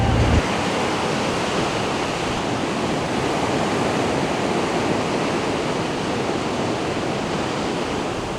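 Atlantic Ocean surf breaking along the coast at Swakopmund, Namibia, a loud, steady wash of broadband noise that roars on without pause, close and unbroken, with no voices over it.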